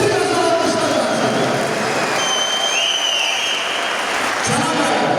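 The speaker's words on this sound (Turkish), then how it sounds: "Bir gözəl alkışlar gelsin." Applause from an audience at a gathering honouring sports medal winners, a dense sustained clapping that holds steady throughout with crowd noise and some voices mixed in.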